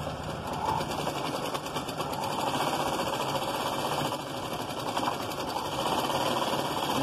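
A sewing machine runs continuously, close and steady, stitching a blouse for a six-month-old baby, with a fast rattling mechanical rhythm throughout and no talking.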